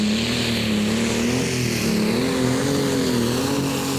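An old Ford Super 6 pulling tractor from Norway works its engine hard at a tractor pulling competition in Brande, Denmark, a loud sustained drone with a wavering pitch that holds steady throughout.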